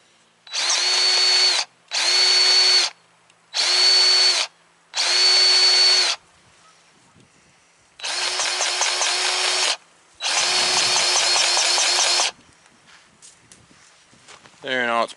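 A power drill driving a grease pump whirs in six bursts, four short ones then two longer runs, loud and close with quiet gaps between.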